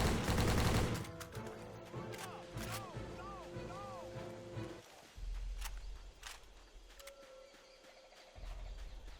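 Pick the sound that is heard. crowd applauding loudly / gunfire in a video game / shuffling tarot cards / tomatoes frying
gunfire in a video game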